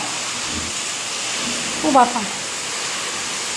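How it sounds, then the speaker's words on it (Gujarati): Heavy monsoon rain pours down in a dense, even wash of noise, constant and enveloping, while a voice briefly exclaims over it partway through. "વરસાદ એટલો જ ચાલુ છે હજી ખૂબ જ વરસાદ આવે છે"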